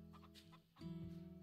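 A farm chicken in the video game Farm Together 2 gives a short, soft clucking call, quiet and close, with a brief fuller cluck toward the end.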